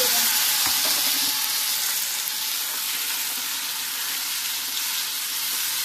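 A whole onion dropped into hot oil in a home kitchen pan sizzles loudly and steadily, a dense continuous fry with a few faint stirring scrapes, no voices.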